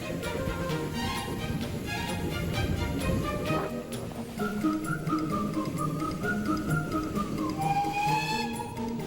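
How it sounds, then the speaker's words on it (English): A steam locomotive's whistle sounds in sustained tonal blasts over the rumble and chuff of the train, with a rising, wavering pitch near the end, loud and close amid ambient noise. "That train whistle, how could it piss you off?"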